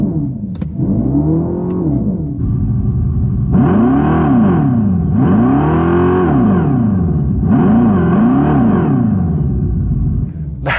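A 2024 Dodge Charger Daytona Scat Pack electric car accelerating with its synthetic V8 sound, a loud droning rumble that rises and falls in pitch through several revving sweeps, close and sustained, with a few faint voice fragments.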